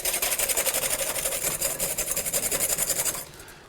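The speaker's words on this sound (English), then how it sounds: "Let's add a little bit of our vinegar. Just keep tinkling it away. Lovely. And then give it another whisk." A lemon juice and vinegar dressing is whisked briskly in a bowl, a fast rhythmic scraping and tinkling at close range that stops abruptly near the end, no voices.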